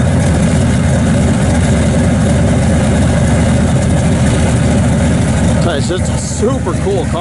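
A 1965 Chevrolet Chevelle Malibu engine with an aggressive camshaft runs at a deep, throbbing idle steadily up close, with someone talking briefly over it near the end.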